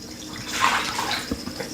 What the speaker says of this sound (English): I'll pour some more water on top